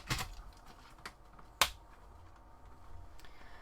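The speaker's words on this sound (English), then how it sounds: "Typing with it feels really nice." A few sharp, sparse key clicks from a SteelSeries Shift gaming keyboard, quiet and close, with gaps of near-silence between strikes.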